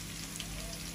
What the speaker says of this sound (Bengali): একটু জল দিয়ে